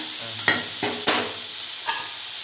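Cooked snake gourd kootu being stirred in a pan over low sizzle; a few distinct scraping spoon strokes and taps sound close over a steady background hiss.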